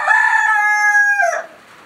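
A rooster crows once among a mixed backyard flock of chickens and guinea fowl, a loud, close, drawn-out call that holds steady before dropping away into quiet.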